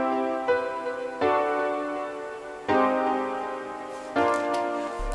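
Synthesized chord progression played back in FL Studio, four sustained chords struck roughly every 1.3 seconds with bright, harmonically rich tones and a rising top note, heard alone without talk.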